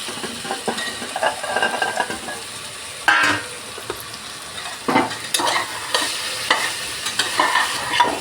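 Chicken feet frying in a pan with turmeric are stirred, giving a steady sizzle broken by scraping strokes of a spoon across the pan bottom, close and continuous throughout.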